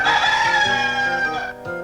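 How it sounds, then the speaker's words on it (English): A rooster crows in a long, loud, wavering cock-a-doodle-doo that holds strong for about a second and a half, then drops off, with a brief fainter call right after. "It's hard to miss Ricky Rooster's crowing."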